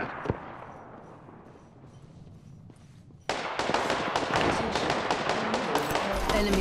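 Gunfire in the video game Apex Legends, a quiet stretch with a faint distant shot, then a sudden burst of rapid, loud shots continuing steadily to the end.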